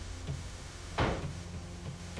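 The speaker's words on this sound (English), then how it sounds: "Open the door." A door swings open with a single brief burst of creak and rustle about midway through, set against a low, steady room hum and faint background noise.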